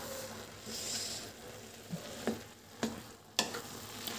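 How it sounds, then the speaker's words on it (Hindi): Grated carrots for carrot halwa are stirred and roasted in a pan, with a faint low sizzle and a few sharp scraping clicks of the spoon against the pan near the end, quiet and close. "गाजर हमारा बहुत ही अच्छा भुन गया है"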